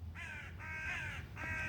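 Several crows caw outdoors in three long, harsh calls separated by short gaps, loud and fairly close against a steady low background rumble.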